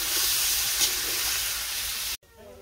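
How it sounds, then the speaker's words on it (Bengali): Potatoes frying in a pan give a loud, dense, continuous sizzle and hiss close up, which cuts off abruptly near the end into quieter room sound. "আলুটা ভাজি করবো, ভাজি করে দিয়ে রসটা নিকে দিয়ে দিব"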